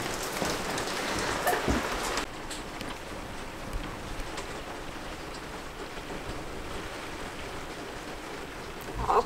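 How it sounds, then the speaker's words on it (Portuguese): Heavy rain falling on a boat in Croatia while rainwater collects in buckets, a steady close hiss of drops that is louder at first and then settles, with occasional knocks. "Muita chuva aqui."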